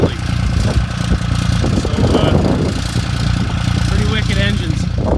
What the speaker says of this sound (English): pretty wicked engines